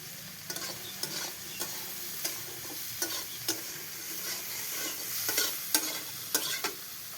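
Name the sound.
frying and stirring in onion oil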